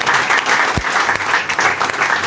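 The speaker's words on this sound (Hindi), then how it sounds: "हम जोरदार तालियां इनके लिए बजाएंगे" Loud, close congregation applause at a Christmas church service, a thick continuous clatter of many hands that stays strong and steady from start to finish.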